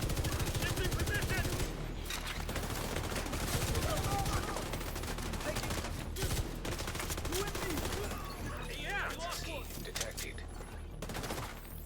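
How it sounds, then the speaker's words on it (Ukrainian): Loud, nearly continuous gunfire in the video game The Division 2, in rapid bursts, dense and unrelenting, with layered shots and blasts filling the whole stretch and no voices. "Стріляємо собі та й все."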